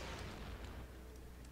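A single pistol shot in the Warframe video game, a deep, heavy boom with a rumbling low tail that fades over about a second, alone without voices.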